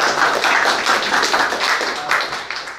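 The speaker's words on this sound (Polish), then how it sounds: "Także brawa." Audience applause at an art exhibition, close, fairly loud clapping with a few distinct hand claps in an uneven rhythm, easing slightly toward the end.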